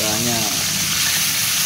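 Fish frying in hot oil gives a loud, dense, steady sizzle close up, with a faint voice briefly at the start.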